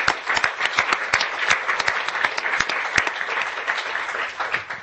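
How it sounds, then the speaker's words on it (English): An audience at an ALT academic lecture event applauds a speaker, a dense, sustained clapping from many hands that stays steady and fairly loud from start to finish. "I think she deserves another round of applause."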